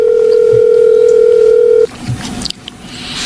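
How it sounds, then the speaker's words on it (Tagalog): A loud, steady telephone dial tone holds for almost two seconds while a number is being called, then cuts off abruptly into a quieter line with faint clicks and room noise. "Tatawagan kong number na nag-text sa kanya."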